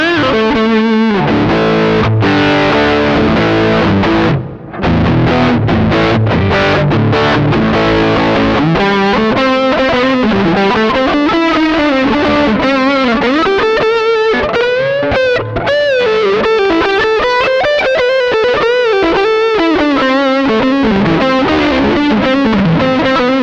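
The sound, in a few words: high-gain electric guitar through JOYO American Sound pedal, neck pickup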